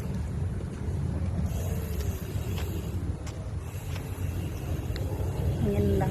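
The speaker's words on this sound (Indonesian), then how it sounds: "Aduh, anginnya kuat." Strong wind buffeting the microphone on a beach lined with casuarina trees at low tide, a constant loud rushing roar with a person talking over it.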